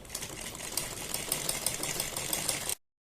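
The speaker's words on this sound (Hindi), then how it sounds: "हम बिल्कुल बुकरम के बराबर बराबर में सिलाई लगाते चले जाएंगे, और जो हमने गला काटा है बिल्कुल उसके बराबर बराबर में पूरे गले पर हम इसी तरह से सिलाई लगाएंगे" Sewing machine stitching along the collar of a boat neck blouse buzzes steadily up close with a fast rattling rhythm, running without a break for close to three seconds before cutting off into silence.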